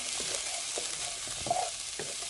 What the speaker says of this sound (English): we're going to go ahead and mix those all in